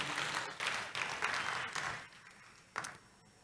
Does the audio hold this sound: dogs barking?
no